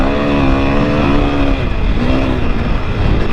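A 2021 KTM 500 EXC dirt bike roars continuously around a motocross track, its engine loud and close with the pitch rising and dipping as the throttle changes.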